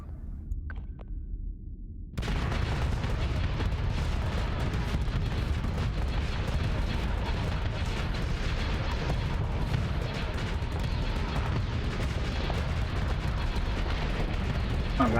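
Space warships in the game Starsector open fire after a quiet start, unleashing a dense, continuous barrage of booms, blasts and rapid weapon fire that stays loud to the end.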